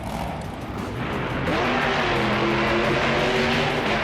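A monster truck engine in a Monster Jam show at New Orleans, LA, restarted, then revving up into a loud, sustained roar that rises in pitch, close and dominant over a steady arena background.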